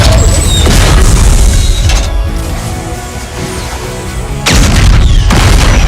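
Loud crashes and clattering impacts of junk being thrown around, heavy booming hits with debris rattling, a dense burst at the start and another near the end, with a rumbling lull between.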